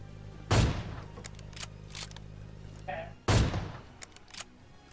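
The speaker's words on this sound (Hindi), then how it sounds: "अब ये लोग गोली चलाते हैं हम पे।" Enemy gunfire in the BGMI battle royale game: two loud, sharp shots land a few seconds apart, with fainter distant shots scattered between and after them.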